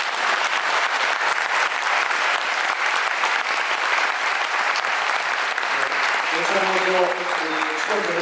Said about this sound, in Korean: 우리 경기 아트센터 여러분께 우리 여기 오신지 모르겠지만 한번 큰 박수로 감사합니다.